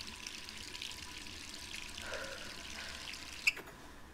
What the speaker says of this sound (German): Warum lässt die eigentlich nachts das Wasser laufen?